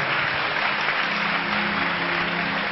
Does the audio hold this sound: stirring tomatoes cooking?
no